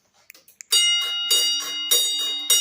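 A few faint clicks, then a handcrafted, solar-powered, wireless model railroad crossing bell rings steadily with bright, repeated metallic dings, close and fairly loud.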